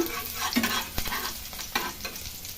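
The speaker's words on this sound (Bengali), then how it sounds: "তেলটা গরম হওয়ার পরে আমি রসুন কুচি, পেঁয়াজ কুচিটা দিয়ে দেবো এর মধ্যে।" Chopped garlic and onion sizzle in hot oil in a pan while a utensil stirs them, a steady close frying hiss broken by several sharp scraping taps.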